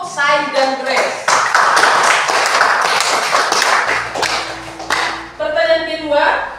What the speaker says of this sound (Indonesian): Oke, tepuk tangan untuk Sai dan Grace.